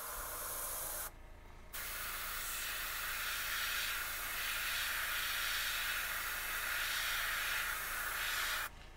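An airbrush sprays paint at about 20 PSI, a steady close hiss that runs nearly the whole time and cuts out briefly once near the start before resuming until the end.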